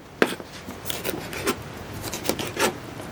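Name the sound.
peeling a potato with a knife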